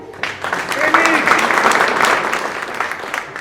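An audience at a township State of the Township event gives a round of applause, a dense steady patter of clapping that swells after a brief voice at the start and holds at an even level throughout.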